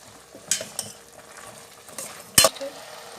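A spoon stirs pepper, coriander and mustard seeds into a sambar pot, giving soft scraping movements punctuated by a few sharp metallic knocks against the rim, one louder clank near the end, over a faint background sizzle.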